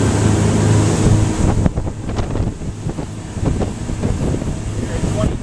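A Formula 2008 boat with a Yanmar diesel engine runs at 3,300 RPM into a 7 to 10 knot wind, its steady engine drone mixed with heavy wind buffeting and water rush, loudest at the start.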